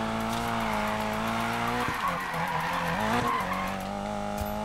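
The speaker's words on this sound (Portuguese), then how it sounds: "E um drift." A car drifting in Need for Speed Payback, with steady engine drone and sustained tire squeal across several seconds, loud and continuous with a couple of sharper skid bursts mid-slide.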